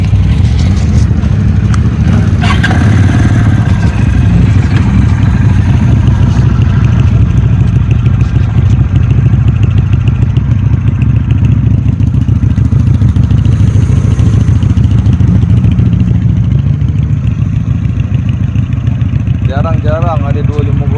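A big-bodied 250cc motorcycle styled a bit like a Fat Boy, with a large front tyre, idling loudly and steadily with a rough mechanical clatter, while someone talks over the engine close by.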